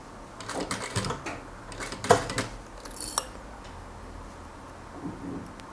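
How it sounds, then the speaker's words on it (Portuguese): A sewing machine stitches fabric bias binding in short bursts of rapid mechanical clatter, close and fairly quiet, then goes still toward the end. "Puxa o tecido e vai costurando"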